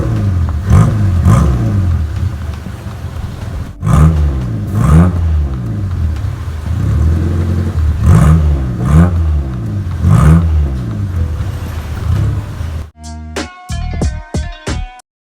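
Mitsubishi Lancer with a 4G13 engine cranking and catching, then revving in repeated rising surges, loud and close, ending in a short run of sharp rapid bursts.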